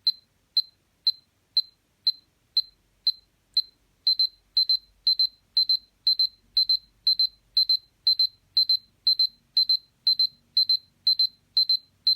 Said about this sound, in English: so that was the sound when the timer is finished or your alarm clock